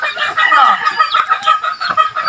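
Pet chickens nearby give rapid, loud bursts of clucking, with short crowing notes mixed into the choppy chatter.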